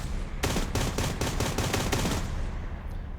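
A mobile gun in the DCS World Combined Arms combat simulator fires a long, rapid burst of rounds, a steady stream of loud cracking shots that stops abruptly, leaving a fading rumble.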